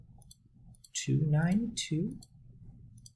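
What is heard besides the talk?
keys pressed on a calculator while typing in data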